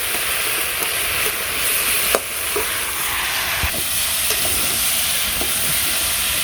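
Curry spices and vegetables frying in a pan in a Bangladeshi village kitchen, with a steady close sizzle and occasional stirring scrapes and clicks running continuously throughout.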